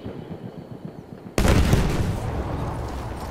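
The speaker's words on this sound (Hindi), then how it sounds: "चलो बम काम कर रहा है, ये मैंने देख लिया है चेक करके।" A bomb blast in the video game Battlefield 1 bursts suddenly after a quiet stretch of low ambient noise, a loud, close, broadband boom that rumbles on and slowly fades.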